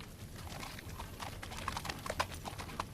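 Horse hooves clip-clopping at a steady walking pace on hard ground in an ancient Roman period drama, close and moderately loud over a dense outdoor background.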